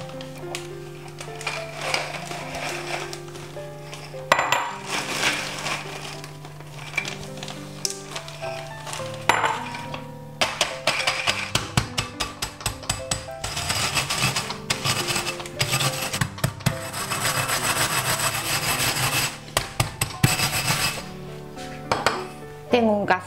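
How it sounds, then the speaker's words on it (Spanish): Biscuits are crushed inside a bag, producing irregular crunching, rubbing and rapping sounds in uneven bursts, close by, with some clinks in between. "Reservo 6 galletas y el resto las meto en una bolsa y las trituro"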